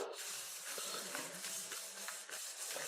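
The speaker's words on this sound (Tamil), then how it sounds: "கருவேப்பிலை இதையும் நல்லா வறுத்துக்கலாம்" Handful of curry leaves dry-roasting in a pan for homemade sambar powder, giving a steady soft hiss and faint crackle with light scraping throughout, close and quiet, no voices.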